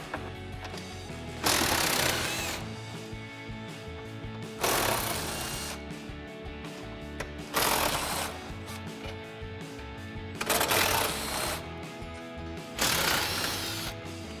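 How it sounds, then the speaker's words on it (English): An impact wrench fitted with a 13mm socket removes bolts from a parking sensor bracket during a 2021-2023 Ford F-150 front bumper swap. It fires in five loud, even hammering bursts, each about a second long, with short pauses between them. "we'll go ahead and grab our 13mm socket on our impact and run these off"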